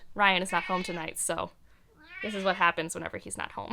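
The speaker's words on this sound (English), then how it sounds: "You can hear my cat in the background." A pet cat named Puta meows repeatedly in the background of a home room, its drawn-out cries partly masked by a person talking close to the microphone.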